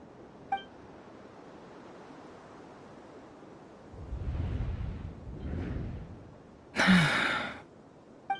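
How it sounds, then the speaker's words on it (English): A Genshin Impact character gasps once sharply, loud and close, after a stretch of low rumbling ambience with a soft breathy swell; brief, with no talk. "I heard Yehuda gasp"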